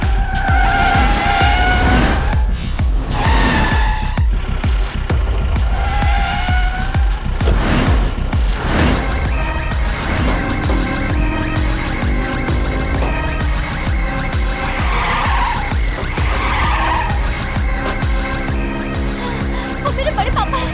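Cars speed and skid in an action-movie chase, with repeated loud tire squeals and roaring engines over a dense dramatic soundtrack, and shouted voices at the start.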